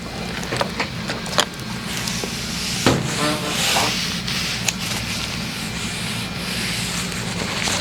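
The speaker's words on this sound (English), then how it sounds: "So I'm going to clean her skin up" Skin being wiped and rubbed clean before tattooing, a steady scrubbing friction close by with faint background hum and a few small clicks, no talking.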